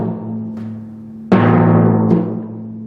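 Timpani struck several times with the drumhead pressed hard to bend the pitch up: one soft stroke, then a loud ringing hit and a lighter third stroke, each tone sustaining and ringing on, played alone.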